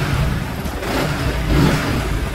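A motorcycle engine revs up under throttle while a Koso 3-in-1 voltmeter monitors battery charging, a loud, steady mid-pitched roar that swells slightly toward the middle and holds, with no voices.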